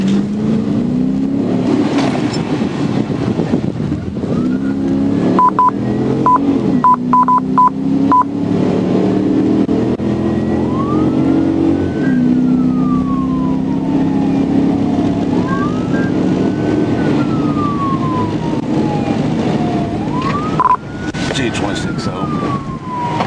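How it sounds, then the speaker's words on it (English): Police car siren wailing during a dashcam pursuit, rising and falling sweeps over a loud engine and road roar, with short beeping tones early on and radio chatter mixed in. "Lights and sirens went on, and the pursuit began."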